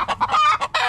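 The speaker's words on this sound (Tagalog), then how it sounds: "Sabaan na yung mga manok dito mga dulo." Close, rhythmic clucking from a chicken, a quick series of short clucks ending in a longer drawn-out call.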